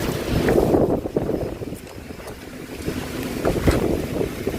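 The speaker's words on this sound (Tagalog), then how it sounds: "Sobrang lakas ng hangin." Strong wind buffets and roars across the microphone in gusts, rumbling and rising and falling, with no one speaking.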